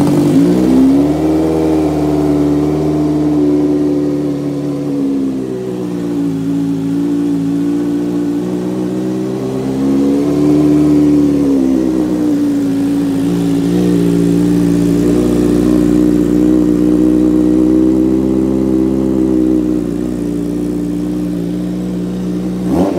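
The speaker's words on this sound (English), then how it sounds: "this is what my Z900 now sounds like with a straight pipe" A Kawasaki Z900 motorcycle with a straight pipe exhaust system revving: a loud, close, deep rumbling engine tone that swells and dips through several rev rises before holding a steady, rich drone.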